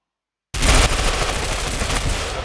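Sustained automatic gunfire from a weapon in Ghost Recon Phantoms during a recoil test, starting abruptly after a half-second of silence and continuing as a dense, loud, unbroken burst with no talk.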